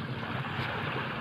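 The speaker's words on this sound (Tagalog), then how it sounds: "Maalon dito sa amin." Rough waves wash along the shore of Laguna lake on an overcast day, a continuous broadband surf roar mixed with wind buffeting the microphone, with no voices.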